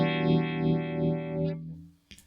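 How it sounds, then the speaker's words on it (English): Guitar chord played through a Red Witch Moonphaser pedal on its tremor phase setting, with a sweeping, pulsing phase wobble that rings for about a second and a half before fading, then a short string scrape. "Next position is the tremor phase we were just listening to."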